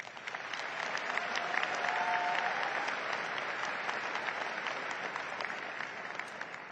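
Steady, even applause from a large crowd filling the hall at a Texas A&M University commencement, a sustained wash of clapping heard at a distance without pauses.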